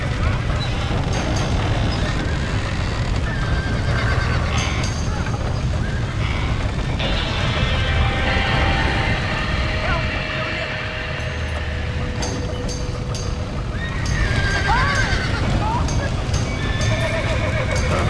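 Horse whinnies and neighs from the Red Dead Redemption video game, mixed with hoofbeat clip-clops and in-game voices, with a continuous bed of game ambience and music throughout.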